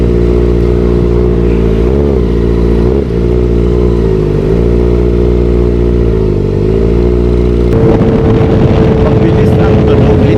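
A Kawasaki ZX-4RR motorcycle engine drones loudly and steadily while riding. The pitch dips and recovers as the revs shift, with heavy wind rush throughout and a rougher, noisier stretch near the end.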